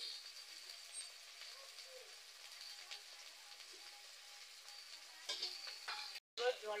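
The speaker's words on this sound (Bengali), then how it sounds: "মশলাটা ভালো করে কষিয়ে নিচ্ছি।" Spice paste with salt and turmeric fries and gets stirred in a pan, a faint steady sizzle with soft scraping strokes, then a brief louder clatter near the end.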